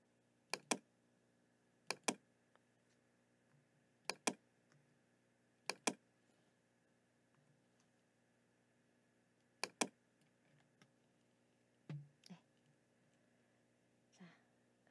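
Computer keyboard typing, including Caps Lock presses, heard as sparse paired key clicks at irregular intervals, close but quiet against a faint steady hum, with a few softer taps near the end.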